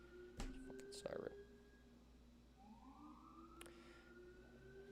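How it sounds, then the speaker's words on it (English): A faint emergency vehicle siren rises slowly in the distance outdoors, a thin wailing tone behind quiet room noise and a couple of soft knocks. "I think this is the first siren of the day."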